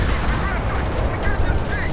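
Ship weapons fire in a space combat video game as a dense, continuous volley of booming, gunfire-like blasts that rattle on steadily at close range.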